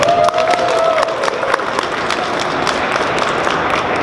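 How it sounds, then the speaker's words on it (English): Audience applause fills the opening ceremony of an anime convention in New York, a dense, steady wash of clapping from a large crowd with a brief whistle-like tone near the start. "Give the Consulate General a round of applause for that."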